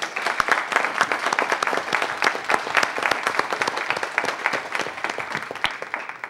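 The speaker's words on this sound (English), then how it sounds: "I think that deserves an applause." A council meeting audience gives a round of applause, many sharp individual claps forming a steady, moderately loud patter that continues for several seconds without speech.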